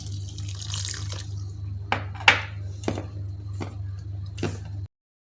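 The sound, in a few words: pouring water into flour and kneading dough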